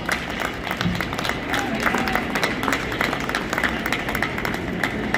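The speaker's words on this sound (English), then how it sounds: "Let's give him a warm welcome applause" An audience at the opening of the 78th annual RC Show applauds to welcome a speaker, with dense, steady clapping from a large crowd that fills the room and stays even throughout.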